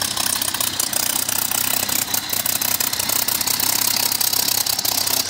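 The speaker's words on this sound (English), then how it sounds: "settling down onto the runway, and the last of the aircraft to touch down, shortly to follow in behind it" A WWII-era aircraft landing and taxiing at the Duxford Battle of Britain Air Show gives a loud, steady, throbbing piston-engine rumble with rough pulsing, sustained throughout.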